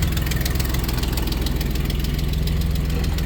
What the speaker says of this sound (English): you can hear it sounds like there's a little bit of an exhaust leak, but it kind of quiets up as it gets warmed up